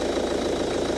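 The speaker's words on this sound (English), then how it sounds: "So first off, we shall start the engine" A diesel engine idles steadily with a low, even rumble and a faint rhythmic knock, close and continuous, during a DPF cleaning job.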